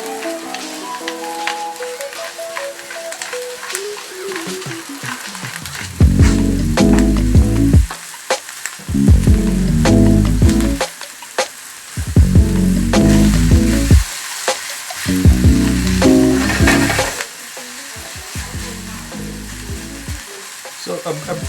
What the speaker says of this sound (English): I just wanna saute this mushroom, and I don't want too much juice to come out of them